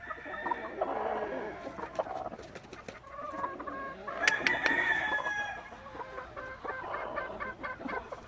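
Dark-feathered gamefowl chickens on a breeding farm cluck softly and steadily, and one rooster crows mid-way, clear and moderately near against low outdoor background noise.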